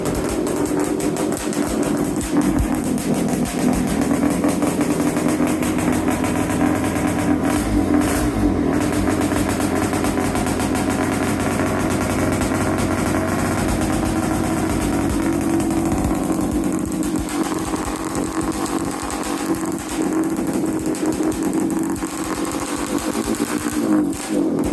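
Honda ATC185s three-wheeler running with an XR200 top-end modification out in dirt countryside, its engine droning steadily and loudly up close for the whole stretch, with no talk over it.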